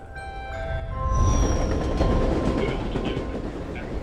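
A train runs steadily through a film scene, a loud continuous rolling rumble with rail clatter and faint high squeals, swelling after the first second and holding to the end.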